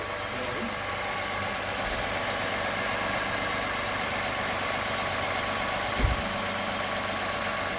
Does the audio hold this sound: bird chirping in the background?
no